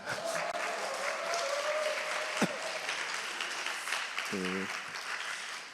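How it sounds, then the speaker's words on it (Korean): A crowd claps steadily in sustained applause that fills the room, with a brief voice and a short tonal sound near the end. "이때 박수 쳐야 될 것 같은데."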